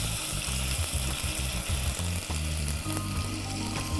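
Ginger garlic paste frying with golden onions in a pan, a loud close sizzle with bursts of scraping as the mixture is stirred, no voices.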